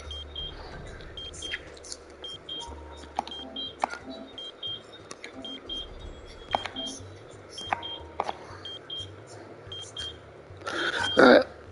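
A video game beep in Powerslave Exhumed on PS5 marks a hidden transmitter piece, ringing out as short, clear electronic tones among game music and effects, with a louder burst near the end.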